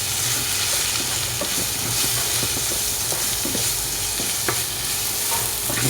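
Chicken curry with store-bought chicken masala and salt being stirred in a pan, a loud dense continuous sizzle with scattered scraping knocks of the spoon, no talk.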